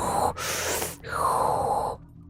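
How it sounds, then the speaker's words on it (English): An enemy breathing nearby in the SCUM survival game: two heavy, raspy inhales or gasps, each lasting well under a second with a short pause between them, close and fairly loud, with no speech. "Listen to them breathing."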